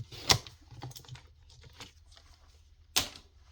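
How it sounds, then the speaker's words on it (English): Paper trimmed for a junk journal cover, a few sharp crisp cuts with light rustling between them, close and quiet. "I'm just going to cut it down 1/4 inch"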